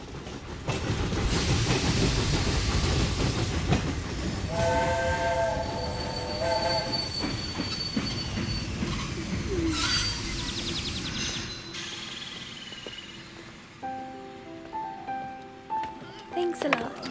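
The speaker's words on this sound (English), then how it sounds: "Just wait until the train stops." A train rolls into a station and brakes to a halt, its wheels squealing loudly and a horn sounding before the rumble fades, leaving quieter clanks at the end.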